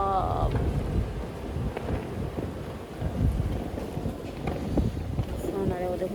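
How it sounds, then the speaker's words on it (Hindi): Strong wind from an approaching storm roars and buffets steadily around the microphone, with gusts rising and falling throughout; a person speaks over it. "तूफान आ रहा है, वो देखो सारी चीज़ें उड़ती इधर आ रही हैं।"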